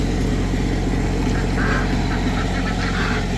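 Backyard ducks quacking in a loose, steady chorus at moderate distance over a loud constant outdoor rumble of wind or running water.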